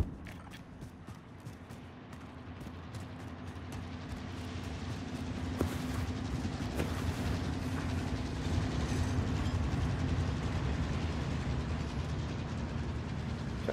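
A train rolls past in a video game, a rumbling, clattering wagon noise building and holding loud across the whole stretch with metallic clicks and creaks.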